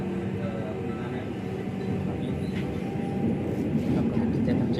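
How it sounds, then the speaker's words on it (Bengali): A Dhaka metro rail train rumbles steadily along the tracks with a low, continuous roar that grows slightly louder toward the end, heard from inside the carriage. "ছুটেই চলছে মেট্রো রেল ছুটেই চলছে"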